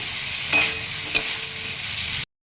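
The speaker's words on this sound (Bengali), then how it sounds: "আলুগুলো দিয়ে দিচ্ছি, ভেজে রাখা আলুগুলো একটু কষিয়ে নিয়ে" Fried potatoes being stirred and sautéed in a spice paste for a vegetarian banana-blossom kofta curry sizzle steadily and closely, with two sharper scraping strokes of the spoon across the pan.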